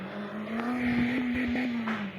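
Engine note of a Mahindra Thar off-road SUV in a video game, driving in fourth gear: a steady, sustained drone holding one pitch with slight rises, fairly loud and alone, with faint rattles over it.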